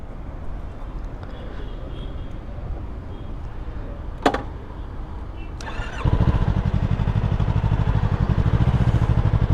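A Yamaha R3 motorcycle engine cranks and catches, settling into a loud, steady idle after a brief whirr of the starter, with a faint earlier click.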